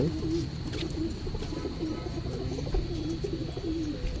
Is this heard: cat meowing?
no